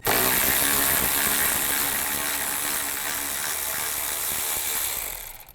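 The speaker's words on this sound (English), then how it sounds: "Take these 2 bolts out right here, the 10mm. Use a 10mm socket." A ratchet with a 10mm socket removes bolts from the AC condenser fan assembly of a 2005-2015 Nissan Xterra, clicking rapidly and continuously at close range for about five seconds before stopping.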